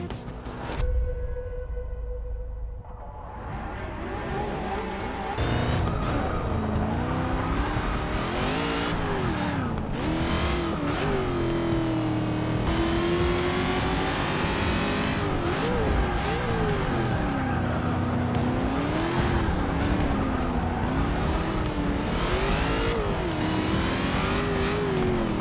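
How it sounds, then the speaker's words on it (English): A race car in the Forza driving game, played with a controller, revs loudly and steadily through repeated gear changes, with rising and falling engine pitch and occasional tire squeal, continuous and up close for the whole lap. "So let's get a Forza game started up here."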